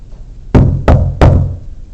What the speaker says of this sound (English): Maybe knock again.